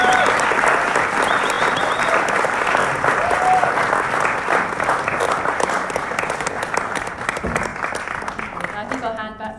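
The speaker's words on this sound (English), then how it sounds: "I'd love you to all give them a big round of applause" Prolonged, loud applause fills a room at a Sikh storytelling event, a continuous roar of many hands that slowly fades near the end, with a voice faintly mixed in.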